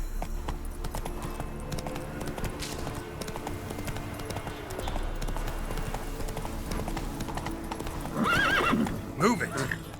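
A horse in The Witcher 3 trotting with a steady, close clip-clop of hooves, then letting out a loud neigh near the end.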